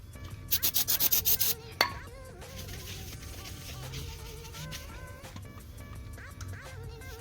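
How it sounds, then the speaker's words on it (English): Close rubbing and scrubbing on a clutch pressure plate for a Hyundai Tiburon V6, starting with a quick run of rhythmic scrapes, then steadier soft friction strokes. "start cleaning the pressure plate"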